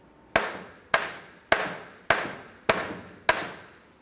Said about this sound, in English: Now let's continue on with a hammer, and we're going to go ahead and knock this axle out of the transmission.